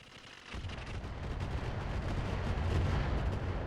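Mech weapons fire in the BattleTech-based game RogueTech: a sudden heavy boom swells into a dense, sustained rumbling barrage of blasts lasting a few seconds, with no voice.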